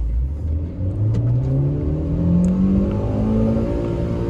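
A 2020 Hyundai i20 Asta accelerates in first gear, its engine note climbing steadily and loudly in pitch as it revs up, heard close without talk.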